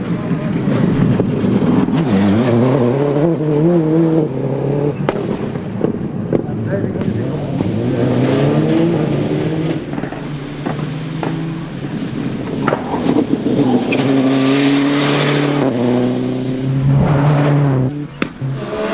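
Rally car racing through the park stage of the 2002 Lurgan Park Rally, engine revving and shifting pitch as it passes, with wind buffeting and a commentator talking over it.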